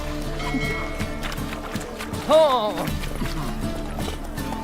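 Horse hooves pound in a steady galloping rhythm while riding in The Witcher 3: Wild Hunt, with game music underneath and a brief spoken exclamation partway through.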